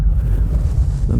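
Steady low roaring wind buffeting the microphone, dense and loud throughout with no letup.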